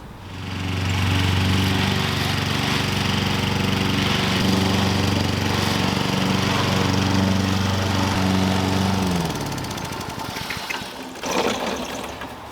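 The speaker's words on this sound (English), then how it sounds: "Let's get back to mowing the lawn now." A walk-behind lawn mower runs close and loud across a lawn, its engine drone holding steady for about nine seconds before it cuts out and leaves quieter rustling and a couple of brief knocks.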